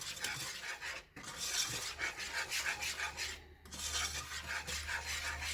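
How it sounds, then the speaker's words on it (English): Thick homemade Play-Doh mixture being stirred steadily in a pot, a continuous rasping, scraping rub with brief pauses between strokes, close and fairly loud with no voices. "you're just going to keep stirring until it starts to form a ball"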